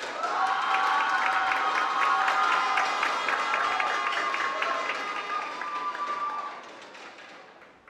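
A crowd at a regional school oratory contest award ceremony in Veraguas, Panama claps steadily and loudly for several seconds, the applause thinning and fading out toward the end.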